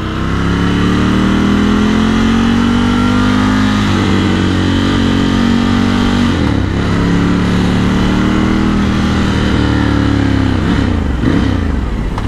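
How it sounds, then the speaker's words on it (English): Ducati Scrambler 1100 Sport motorcycle engine held at a steady, throaty rev, loud and close, with a few throttle blips and crackles breaking through the constant rumble. "just listen to this bike."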